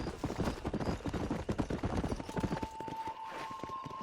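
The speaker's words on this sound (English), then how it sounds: "Aquela corridinha de cavalo básica." A horse galloping in Red Dead Redemption, fast rhythmic hoofbeats close by and fairly loud, easing off near the end as a faint tone rises.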